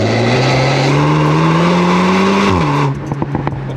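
A Volkswagen Golf 8 R 20 Years limited edition drives a winding road, its engine droning loud and steady with rising pitch, then dropping abruptly as the car slows near the end.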